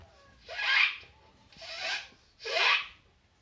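Three short, breathy rasps, one after another with brief pauses between, as a voice imitates a zipper being pulled closed, close up.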